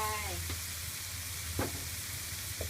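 Green papaya and shrimp stir-fried in a pan give a low, steady sizzle with a few soft utensil scrapes against the metal, faint and close, with no talking.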